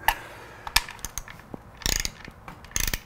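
A ratchet tightens case saver bolts on a Kawasaki Z900 motorcycle, giving quick, close, irregular clicking bursts with short pauses between strokes.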